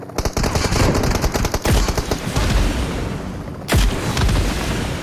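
Loud heavy-weapon gunfire from the PUBG Mobile heavy weapon mode, with dense rapid bursts of automatic fire and sharp booming shots running through the whole stretch and no talk.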